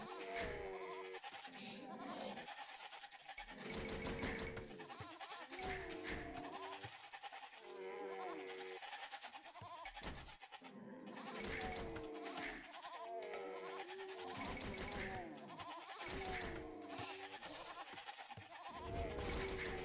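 Sheep bleat repeatedly in the real-time strategy game Age of Empires II, with sharp, bursting calls recurring every few seconds over a steady game soundscape.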